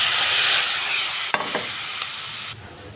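Spices frying in a pan for vegetable khichuri hiss loudly. A few clanks of stirring follow, and the sizzle fades and then drops away as water goes in.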